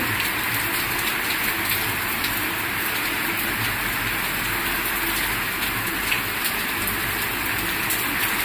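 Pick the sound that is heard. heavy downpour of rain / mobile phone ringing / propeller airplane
heavy downpour of rain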